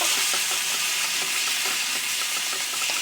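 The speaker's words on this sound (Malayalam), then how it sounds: "നന്നായിട്ട് ഇളക്കി കൊടുത്തതിന് ശേഷം കുറച്ച് ഉപ്പ് ചേർക്കാം." Onions frying for prawn biryani sizzle steadily in the pan, a dense, even crackle with faint stirring scrapes running through it, close and continuous without any talking.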